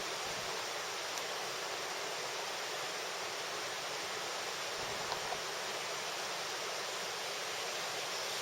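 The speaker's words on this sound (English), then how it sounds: "out back you can tell that we have the river" Steady broadband rush of a river flowing behind a lush green campground near Snoqualmie, a continuous even wash of water with no other sounds.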